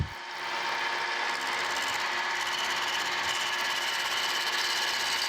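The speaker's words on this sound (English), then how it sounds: "We'll do about a 50 thousandths pass across there." A milling machine takes a 50-thousandths pass cutting new slide keys for a Wadkin table saw fence, a steady loud grinding whir with a rhythmic chatter, continuous and close with no talk.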